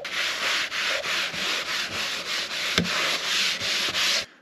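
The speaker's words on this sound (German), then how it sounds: "Dazu nimmt man ein bisschen Küchenpapier, ein bisschen Wachs drauf und dann schmiert man das einfach wieder auf die Oberfläche." Kitchen paper loaded with wax is rubbed back and forth over a camper van's surface, giving a steady series of about a dozen close, even scrubbing strokes.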